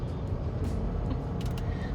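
Steady road traffic rumbles along a busy street, with cars and heavier vehicles passing nearby and a brief hiss like an air brake, heard on its own without talk.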